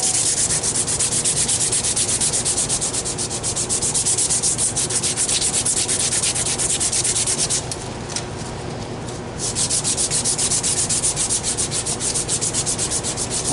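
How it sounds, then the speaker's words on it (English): Insulation on a 600V 400 mcm cable is sanded by hand with 120-grit sandpaper, a steady, loud, close rasping of rapid back-and-forth strokes with a brief lighter pause partway through. "you're going to take your 120 grit paper, and you will sand the insulation, getting any residue off"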